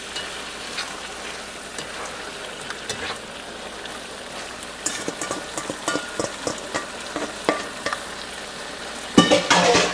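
Okra (bhindi) curry cooks in a pan with a continuous low sizzle, broken by scattered clicks and scrapes of stirring that grow busier and louder toward the end, with a sharp clatter near the close.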